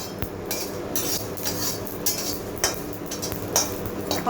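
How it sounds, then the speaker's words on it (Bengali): Two bay leaves and a spoon of cumin are fried in oil while a metal spoon stirs and scrapes the pan, making repeated close clinks and scrapes at an uneven rhythm. "2টো তেজপাতা আর 1 চামচ জিরা আমি ভেজে নিচ্ছি"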